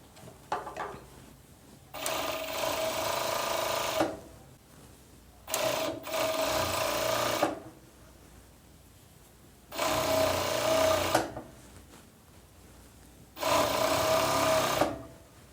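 A sewing machine stitches elastic onto a pajama in four steady whirring runs of roughly two seconds each, separated by short pauses, loud and close.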